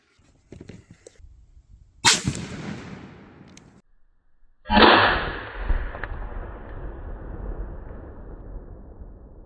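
A shotgun fired at an outdoor shooting range, two sharp loud blasts a few seconds apart, each followed by a long decaying echo across the range.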